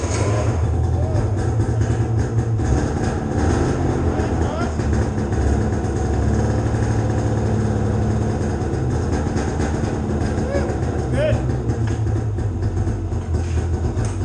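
The engine of a 2005 Pantera idles after a cold start in freezing weather, giving a loud, steady, throbbing low rumble with slight fluctuations throughout.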